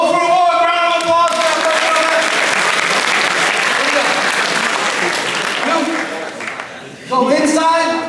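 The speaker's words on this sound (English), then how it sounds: "Round of applause." Loud audience clapping carries on for several seconds, tapering slightly before a voice cuts back in at the close.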